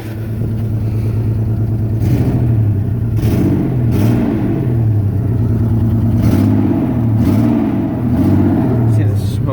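A 1997 Toyota 4Runner SR5 with a blown head gasket idles steadily, its engine hum and low rumble running continuously and fairly loud, with a few rises and faint clatter throughout.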